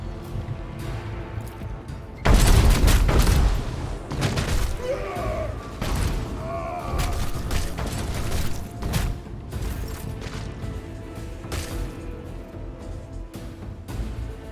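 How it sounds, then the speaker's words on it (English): Turrets fire in the game Warhammer 40k: Rogue Trader, opening with a loud booming burst of gunfire and then settling into rattling mechanical clatter and scattered impacts that continue at a lower level. "let the turrets do the work for us"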